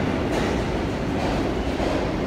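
An MTA subway train at the last downtown station, with a steady loud rumble of cars and wheels on the track and no talk over it.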